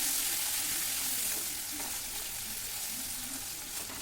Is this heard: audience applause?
no